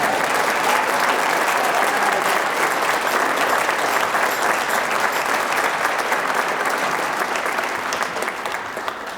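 A concert audience in Williams Auditorium at a Ferris State University spring band and orchestra concert applauds the announcer, producing dense, sustained clapping from a large crowd that holds steady and then tapers slightly toward the end.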